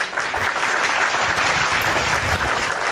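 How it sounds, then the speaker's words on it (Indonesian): Audience members at a religious debate talk clap in a loud, continuous round of applause, many hands at once, steady and close for the whole stretch. "Oke, tepuk tangan dulu."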